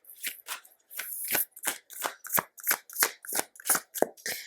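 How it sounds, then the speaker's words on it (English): Tarot cards are shuffled by hand in a rhythmic series of about a dozen crisp riffles and slaps, close and loud, each burst separated by brief pauses. "So I'm going to pull out a few cards,"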